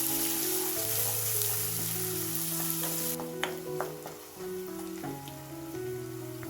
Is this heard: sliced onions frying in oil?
yes